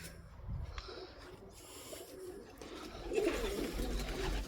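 Soft, low pigeon coos murmur from several birds, including young, nearby, with rustling and shuffling in an enclosed pigeon loft.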